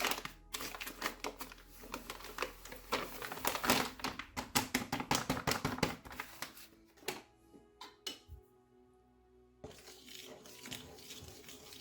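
A kilo of type 1 flour for hand-kneaded sourdough bread is added to a mixing bowl, heard as a long run of soft close taps, crinkles and rustling pours with brief pauses.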